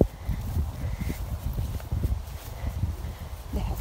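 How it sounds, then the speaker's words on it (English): Horses walk through a hillside field at Brent Knoll with soft, irregular hoof thuds on turf. The steps are faint and fairly close against outdoor wind rumble. "We found horses here."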